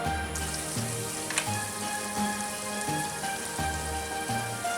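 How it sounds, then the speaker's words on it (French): Butter melts in a frying pan with a soft, continuous sizzle and fine crackle, steady and close, with a low hum underneath. "je vais tout simplement venir faire fondre dans une poêle mon beurre"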